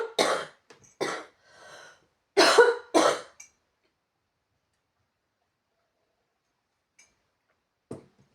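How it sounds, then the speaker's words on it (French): A person coughs in a few harsh, close bursts followed by a throat clearing, then near silence with a couple of faint clicks. "un instant, je vais encore tousser"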